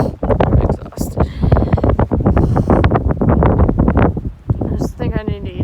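Cold wind gusting across a microphone outdoors in a New Mexico winter on the Continental Divide Trail between Cuba and Grants, loud continuous buffeting roar with sharp bursts, while a person talks over it.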